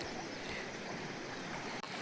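River water flowing during a crossing on foot in a Uttarakhand village, a soft continuous rushing wash, steady and fairly faint, with no talk.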